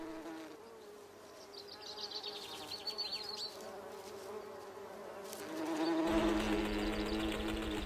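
Honeybees buzz steadily nearby, the droning hum rising and growing louder toward the end as more seem to close in.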